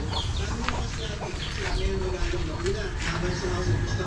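Labuyo junglefowl cluck softly amid chirping birds and low background noise, with a person speaking faintly at times.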